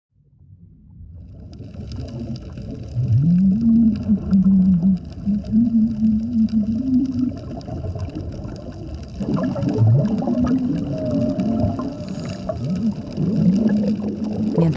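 Whales sing in the sea off Gorgona, Colombia, with long rising and falling tonal calls and moans repeating over a steady underwater wash, clear and fairly loud, with no talking.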